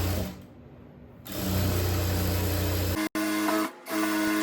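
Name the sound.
sewing machine stitching a blouse edge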